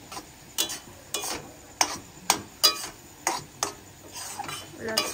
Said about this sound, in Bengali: এলাচটা দিয়ে এখন নাড়িয়ে চালিয়ে নিচ্ছে।